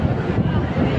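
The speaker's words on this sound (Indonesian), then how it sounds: "kondisi saat ini, angin mulai bertiup agak kencang sedikit, hujan pun masih turun," Wind gusts buffet the microphone in the rain at Mecca, a loud, dense rushing roar that fills the second with rough, steady noise.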